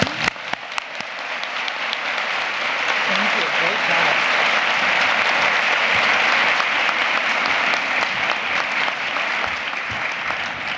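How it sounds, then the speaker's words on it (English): Conference keynote audience applauding continuously, a dense steady wash of clapping from a large crowd that holds loud throughout, with scattered cheers and no speech over it. "Let us give a rousing applause for Loretta Thomas."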